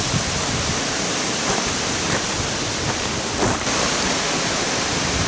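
Compressed air at about 35 psi rushes steadily through a camper's water lines during winterization, a loud, continuous broadband hiss with slight surges.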